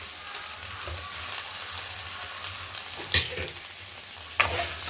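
Chopped tomato goes into potato and onion frying in a pan, with a steady hiss of sizzling oil throughout and a couple of soft stirring clunks and scrapes near the end.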